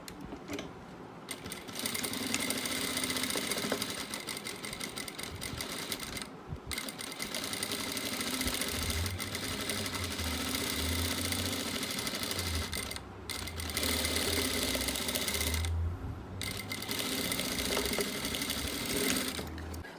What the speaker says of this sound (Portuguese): Agora, eu volto lá na máquina e costuro a faixa todinha.